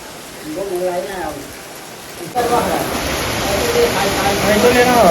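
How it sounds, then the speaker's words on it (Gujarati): Rain starts suddenly partway through and keeps up as a steady, loud hiss, with people talking underneath it. "વરસાદ ચાલુ થઈ ગયો."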